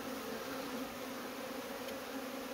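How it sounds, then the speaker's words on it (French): Bees flying nervously around a hive, a steady close buzzing drone with a constant hum and no voices over it. "il y a des abeilles qui volent très nerveusement"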